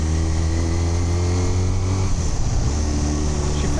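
A motorcycle on a test ride after a top-end rebuild, its engine droning steadily and loud throughout, with a faint shift in pitch partway as it pulls along.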